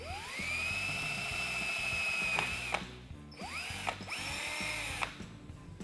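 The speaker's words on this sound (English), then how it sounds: "I'll drill all the way through with a 5/64 inch bit" A small drill whines at high speed as a 5/64 inch bit bores through a Winchester 1885 Low Wall firing pin channel, stopping and restarting a few times with brief spin-downs and spin-ups.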